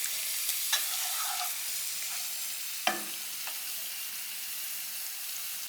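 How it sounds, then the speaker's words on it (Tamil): Mangalorean chicken ghee roast: chicken pieces fry in ghee with masala, giving a steady, moderate sizzle with a few faint clinks from stirring scattered across it. "நல்லா நல்லா கலர் மாறும் பாருங்கள் அந்தளவுக்கு நம்ம வந்து வறுக்கணும்"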